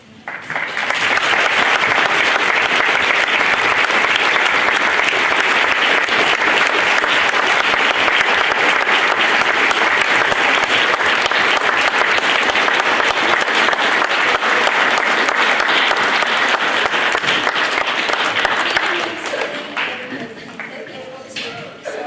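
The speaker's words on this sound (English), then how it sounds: "Would all veterans please stand so we can applaud you for your service?" A school assembly crowd applauds veterans at a Veterans Day event, with steady, dense clapping filling the hall for about eighteen seconds before tapering off at the end.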